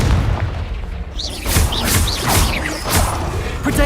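Repeated Confringo blasting spells explode in Hogwarts Legacy: loud, booming blasts land one after another at roughly half-second intervals, each with a crackling crash and whooshing streaks between them, close and dense throughout.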